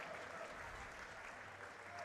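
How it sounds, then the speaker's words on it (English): Fans at an OCAA men's basketball quarter-final between Mohawk and Durham applaud an injured player, a steady crowd clapping heard faintly and distantly for two seconds. "He gets a clap from the fans."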